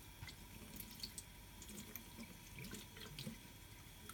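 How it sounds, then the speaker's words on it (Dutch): Lukewarm tap water runs quietly into a sink, with soft splashing and a few drips, as a nebulizer part is rinsed. "je spoelt hem met lauw water om"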